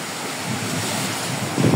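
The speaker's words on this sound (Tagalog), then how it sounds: "So, ang lakas ng hangin." Strong wind roars steadily into the microphone on a rainy-season day in Kalumpit, Bulacan, Philippines, a broad rushing noise with a low buffeting gust near the end.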